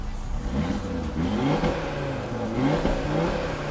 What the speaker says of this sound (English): That is that 5-cylinder motor.